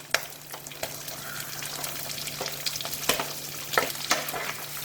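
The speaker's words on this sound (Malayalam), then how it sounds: "അപ്പോൾ ഇനി നമ്മൾ അരിഞ്ഞു വെച്ചിരിക്കുന്ന ആ ഒരു സവാള ചേർത്ത് കൊടുക്കാം." Chopped onion sautéing in a pan for a bottle gourd curry, a low steady sizzle with scattered scraping stir clicks and a faint hum underneath, no talking.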